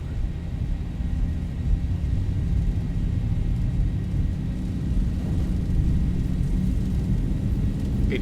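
Simulated Boeing 737-800 engines spooling at takeoff thrust in X-Plane 12, a broad, steady low rumble and roar that holds evenly throughout without pause or talk.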